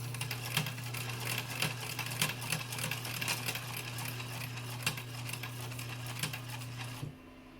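A sewing machine stitches two folded shirt cuff edges together for an 18th-century men's shirt, a steady rapid mechanical whir with rhythmic needle clicks running continuously before stopping abruptly near the end.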